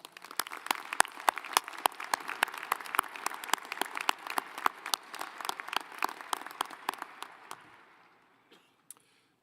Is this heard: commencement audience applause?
yes